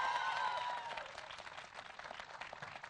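A studio audience applauds to welcome India's foreign minister S. Jaishankar as a guest, loud clapping and crowd noise that softens after the first second and continues more faintly.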